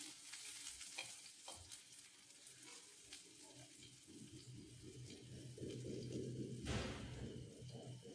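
Onions with a little salt sauté in a pan, giving a quiet, continuous sizzle broken by scraping stirs, with a brief splash of water near the end.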